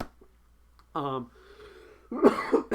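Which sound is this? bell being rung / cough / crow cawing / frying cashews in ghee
cough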